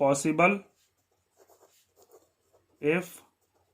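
A pen writes out a maths proof for a circle geometry problem, with faint, brief scratchy strokes on paper between a man's speech at the start and end.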